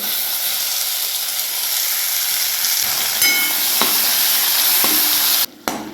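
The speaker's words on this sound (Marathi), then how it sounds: "आता आपण याच्यामध्ये छान असं आपल्याला तेल सुटायपर्यंत कच्चापणा जायपर्यंत पूर्ण भाजून घ्यायचं आहे" Coarsely ground masala paste roasting in hot oil in a pan, a loud steady hiss and sizzle with a few sharp clicks and a brief cutoff near the end, no voices.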